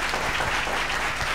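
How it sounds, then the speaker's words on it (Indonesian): Applause at a school event for a student robotics club that won a gold medal, a brief burst of dense crowd clapping, loud and steady. "tepuk tangan"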